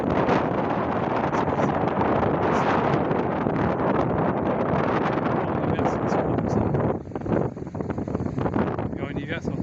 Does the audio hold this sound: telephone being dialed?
no